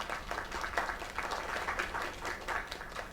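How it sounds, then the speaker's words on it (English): Crowd applause in the video game Lake, a steady wash of many hands clapping throughout, fairly loud and continuous with no talk over it. "Another round of applause."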